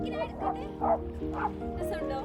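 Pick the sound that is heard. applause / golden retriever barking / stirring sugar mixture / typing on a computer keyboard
golden retriever barking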